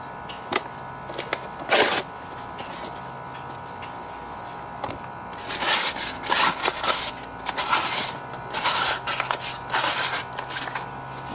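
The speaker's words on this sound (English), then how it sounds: "So I'm going to get some light sandpaper. I think this is 400 grit." Light 400 grit sandpaper rubs over a repaired generator part in short, scratchy strokes, sparse at first, then quicker and denser bursts toward the end, fairly close and moderately quiet.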